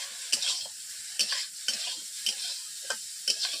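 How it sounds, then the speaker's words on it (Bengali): Broccoli fries in a wok, a soft continuous sizzle broken by sharp, regular scrapes and clinks of a spatula stirring, about once every half second, close and fairly quiet with no talk. "ব্রোকলিগুলোকে এইভাবে আমি ভেজে নিয়েছি।"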